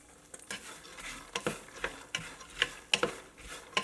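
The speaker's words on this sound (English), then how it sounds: "Mix it so that all the spices are coated to the green beans." Chopped green beans coated in coriander powder and spices are stirred in a pan, with a spoon scraping and tapping the pan in uneven strokes over a soft sizzle, close and moderately quiet.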